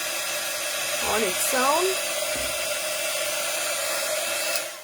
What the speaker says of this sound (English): You can dry it with your heat gun, or you can wait for it to dry